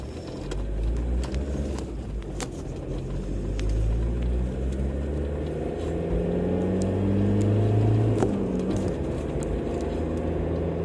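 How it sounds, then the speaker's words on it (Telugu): Steady low engine rumble of a car driving along, with a faint rising and falling drone and a few soft clicks. "రాము కారు నెమ్మదిగా పోని తొందరేం లేదు"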